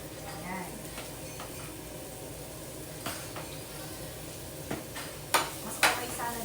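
Bitter gourd with tomatoes, garlic and onion is stirred in a pan, a few sharp metallic clanks of utensil on pan rising over a low steady hiss, with a voice speaking faintly beneath.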